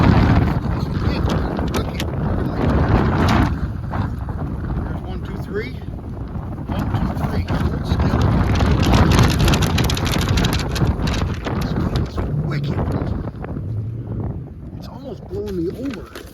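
Strong gusting wind buffets the microphone at an outdoor rifle shooting range, a loud continuous roar that swells and eases for the whole stretch, with a voice talking briefly over it.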